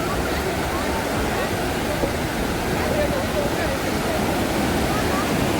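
Sea waves at Dumas beach in Surat rush and wash over feet in the shallows, a loud, continuous broadband roar of surf close by, with a person talking over it.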